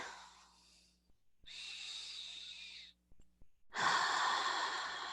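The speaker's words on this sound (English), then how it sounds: "let's take another really deep breath" Several deep breaths during a guided prayer and meditation session, with breathy hissing inhales and long exhales, fairly close and soft, separated by short pauses and alone without talk.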